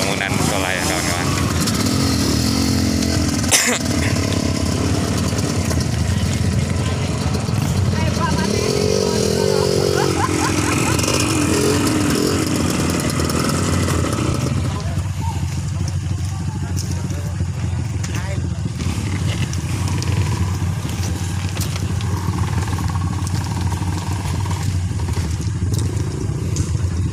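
Trail motorcycles on an extreme off-road track, engines revving and clattering loudly throughout, with excited voices shouting over the noise nearby.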